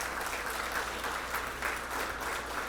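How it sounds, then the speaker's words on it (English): Applause for the Nittany MinitMart staff at a Fuel the Cause press conference, a steady, fairly faint patter of many hands held evenly throughout with no one speaking. "Can we give a round of applause to all the Nittany MinitMart staff as well"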